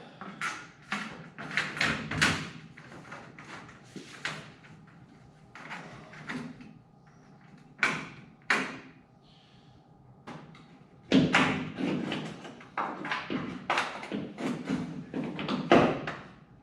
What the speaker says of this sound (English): Oh, sure, bang on it, slid it around.